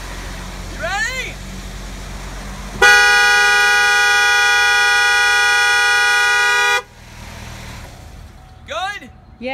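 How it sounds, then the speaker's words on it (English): Truck horn blaring in one long, steady, loud blast lasting about four seconds, with quieter outdoor background and brief chirping sounds before and after. "see what my horn sounds like"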